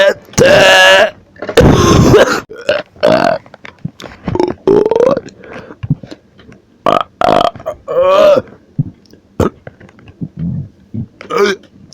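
A run of loud, drawn-out burps from a man, coming one after another with short gaps between them, close to the mic and alone in the sound.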